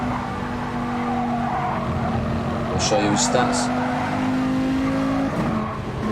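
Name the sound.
race car on board at Suzuka, from a racing video game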